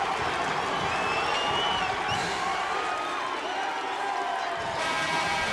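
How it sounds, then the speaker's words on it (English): Dense crowd roar and cheering fill a college basketball arena during a physical Utah State at New Mexico State game, a steady loud wash with whoops and whistles cutting through. "The crowd's gotten into it as it's gotten very physical."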